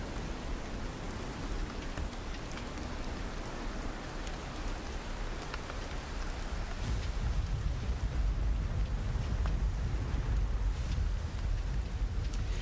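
Steady rain ambience from a tabletop campaign music track, a constant hiss of falling rain with a deep low rumble that grows heavier in the second half, with no voices.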